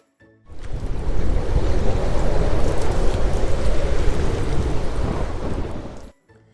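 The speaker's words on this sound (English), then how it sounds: "It rains and rains and rains." Steady, heavy rushing wash of rain, broad and continuous for several seconds, fading in and cutting off abruptly at the end.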